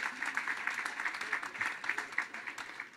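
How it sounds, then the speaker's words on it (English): Moderate applause from an audience at a railway electrification groundbreaking ceremony, a fairly quiet, steady patter of many hands clapping with slight swells. "Let's give Jake McKenzie another round of applause"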